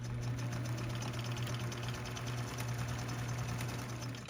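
A sewing machine stitches a patch into pajamas, attaching back fabric along a seam, with a steady, continuous motor hum and whir running unbroken and fairly close throughout.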